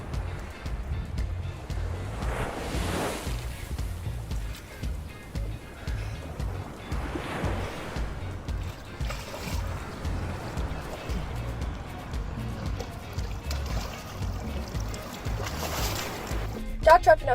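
A boat moves across open ocean waves, with a continuous rumbling wash of water and low hull noise. Swells rise and fall steadily throughout.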